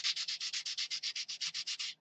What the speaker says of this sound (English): Sanding stick,